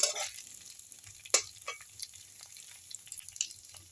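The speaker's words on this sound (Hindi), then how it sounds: "फिर से हम दूसरी तरफ को 1 मिनट के लिए फिर से इसे भूनने देंगे।" Leftover cooked rice breakfast seasoned with mustard seeds and cumin sizzles steadily in a pan after being flipped, with a sharper crackling burst near the middle and light spatters throughout, close and moderately quiet with no talking.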